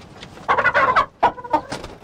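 A broody hen sitting on freshly hatched chicks clucks and growls in a coop, close and agitated, giving a run of rough, throaty clucks with short pauses between bursts.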